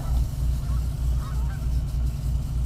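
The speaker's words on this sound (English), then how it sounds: "A gaggle of geese this morning." Faint honking geese sound in the distance over a loud, steady low rumble like wind or an engine, heard from a boat at anchor in the morning.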